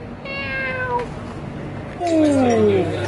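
A cat gives two loud, drawn-out meows close by, the second stronger and longer, with light background noise and no voices.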